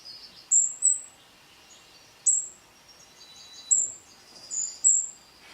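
High, thin golden-crowned kinglet calls repeat in short chirpy bursts, about five or six of them spaced out, fairly faint over a quiet outdoor background.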